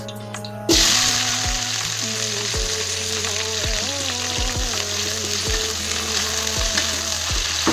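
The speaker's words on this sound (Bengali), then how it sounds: "কড়াইতে তেল গরম করে ফুলকপিটা এখন ভেজে নেব" Cauliflower pieces dropped into hot oil in a kadai burst into a loud sizzle almost at once, then keep frying steadily and close-up, with scattered clatters as they are stirred.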